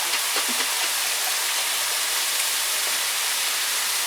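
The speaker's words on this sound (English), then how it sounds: "I'm just going to rinse my jar out with the half and half that I do have." Half and half poured into a jar to rinse it out while cooking, a steady liquid splashing and trickling hiss, fairly close and continuous, with a few faint clinks early on.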